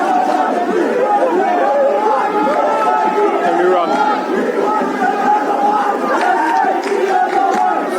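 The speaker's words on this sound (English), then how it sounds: "Enthusiastic Kenyan supporters down in front of the commentary position, given something to cheer about by their team" Kenyan supporters cheer at a U20 rugby match against Uruguay at Hive Stadium: a loud, dense, continuous crowd roar of shouting and chatter that holds steady throughout.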